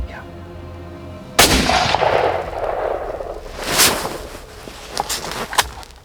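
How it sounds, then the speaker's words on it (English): A hunting gun fires a single loud, sharp shot at a buck over a CRP field. A rolling tail fades after the blast, and a few fainter knocks follow. "Nice shot"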